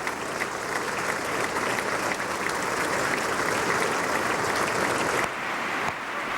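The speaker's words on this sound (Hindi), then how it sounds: "तालियां बजा बजा कर इतिहास रच दिया" Steady, dense applause from a large crowd in a legislative assembly, loud and continuous throughout with no talking.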